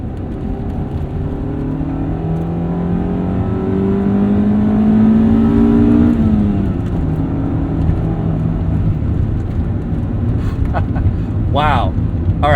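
A 1995 EJ Honda Civic Si engine revs up and down repeatedly, its pitch rising and falling in strong sweeps, loud and close throughout.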